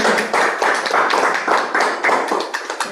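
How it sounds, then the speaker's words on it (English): A small group claps in a quick, steady patter, the hand claps close and fairly loud with no voices over them. "we should give them a round of applause"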